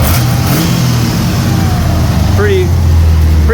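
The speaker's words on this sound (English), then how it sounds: "Overall though, I'm really happy with how it's idling." A 1995 Camaro Z28 engine, running rich and first started in 12 years, idles loud and steady nearby, a constant low rumble with slight revving, while a voice speaks briefly.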